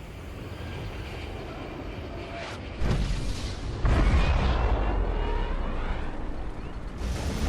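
A Soviet superweapon in Command & Conquer Red Alert 3 Uprising fires with a sudden deep boom, followed by a second heavier blast and a long rumbling roar that lingers loudly with no talk over it.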